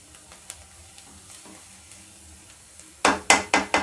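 Vegetables stir-fried in a hot pan for Mumbai-style Schezwan fried rice: a quiet low sizzle at first, then four loud, rhythmic scraping tosses close by at the end, with no talking.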